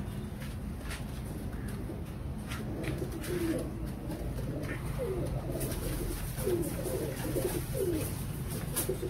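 Pigeons cooing in soft repeated low rolling calls over a faint steady background hum, several birds nearby.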